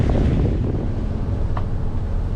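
Steady, loud wind buffets the microphone aboard a Nordhavn 50 motor yacht at sea off the Bahamas, a continuous low rumble with no pauses and no talk.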